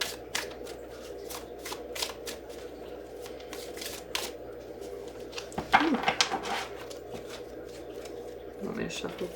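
Tarot cards riffle-shuffled in several quick bursts close by, with a person talking over them throughout.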